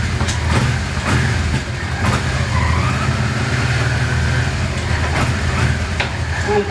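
A motorcycle engine drones loudly during a ride while downshifting through the gears, with the engine pitch sliding in the middle and steady rumble and wind noise throughout.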